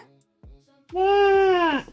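A small child mimics a goat's bleat with one sustained, wavering 'meh' sound, close by, following a few soft murmurs.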